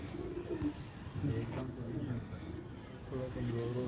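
A pigeon held in the hand at a pigeon loft in Lahore gives low, continuous cooing murmurs close by, with a steady hum of background noise throughout.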